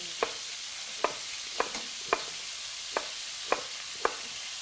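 Beef chunks browning for beef bourguignon sizzle steadily in a pan, with about seven sharp, evenly spaced scrapes or stirs of a utensil punctuating the hiss, fairly faint and with no talking.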